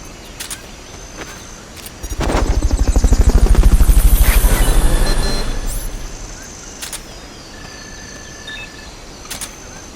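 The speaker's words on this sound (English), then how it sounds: "Fulton recovery helicopter is complete." A helicopter swells in, its rotor chopping loudly for a few seconds before fading away, with faint electronic blips and tones around it, in the video game Metal Gear Solid: Peace Walker.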